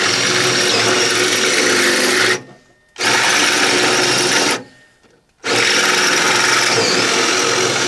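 A power drill bores out old fasteners during a Datsun 510 restoration, a loud, steady high whine running in three long bursts separated by two brief pauses.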